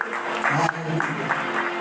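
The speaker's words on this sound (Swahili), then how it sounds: "Pigia Yesu makofi mazuri." A church congregation claps for Jesus in a short burst of scattered, rhythmic handclaps mixed with a preacher's voice.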